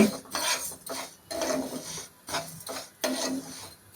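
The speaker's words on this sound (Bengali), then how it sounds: "মুগ ডালটা আগে ভেজে নিচ্ছি" Mung dal being dry-fried in a pan, giving a steady raspy rubbing and scraping in several bursts as the lentils are stirred, fairly close and moderately quiet with no talking.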